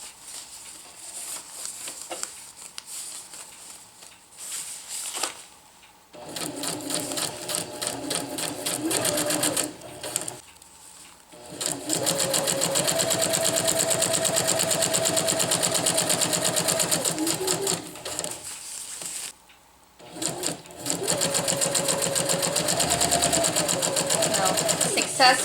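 Close, fast whirring of a sewing machine hemming a tarp with a double rolled hem foot, running in long bursts with brief pauses and speed changes while a voice talks over it.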